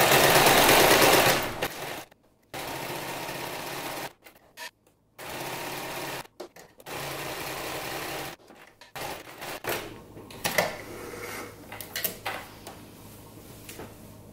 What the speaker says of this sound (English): you want to make sure your sewing machine isn't still on zigzag stitch